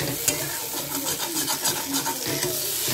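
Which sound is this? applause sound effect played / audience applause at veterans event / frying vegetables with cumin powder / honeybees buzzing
frying vegetables with cumin powder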